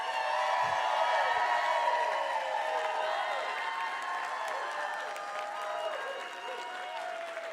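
Sustained audience applause and cheering at a benefit show for a performer taking the stage, a dense steady roar of many hands and voices that holds loud throughout and eases slightly toward the end.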